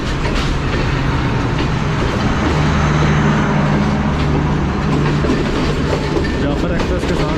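The Sir Syed Express rolls toward Jhelum railway station with a loud, steady rumble heard from on board, carrying rhythmic clickety-clack of the wheels over the rails throughout.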